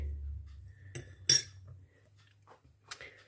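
A utensil scrapes and clinks against a bowl a few times as dough ingredients with salt are stirred, with short pauses between strokes.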